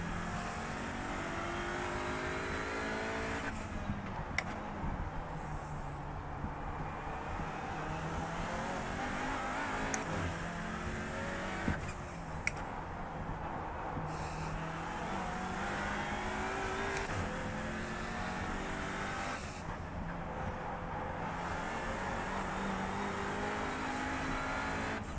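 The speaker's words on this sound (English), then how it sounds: "there's a faster class car approaching" Race cars in the iRacing IMSA Michelin Pilot series, an Audi RS3 among them, roar continuously near and loud, engines revving and shifting as a faster class car closes in and passes, with occasional tire squeal and no voices.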